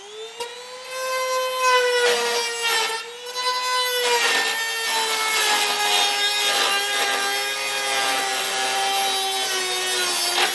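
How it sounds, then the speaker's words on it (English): A rotary tool grinding and cutting through material in the bed of a 2016 Chevrolet Silverado pickup during a fifth wheel hitch installation, a steady high-pitched whine running continuously and close up with brief dips in load. "I think the easiest way will be just to use a rotary tool"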